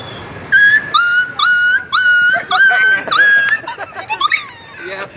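Dog whimpering and yelping after being hit by stones, a series of high, strained cries in short bursts that grow more broken and uneven toward the end.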